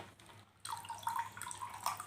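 Cold water pours into a raw mango sherbet mixture, starting after a brief quiet moment and continuing as a steady, close splashing stream.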